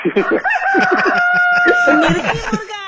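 A human voice imitates a rooster's cock-a-doodle-doo in a drawn-out, wavering crow, loud and close, with other voices chattering around it during a radio prank call.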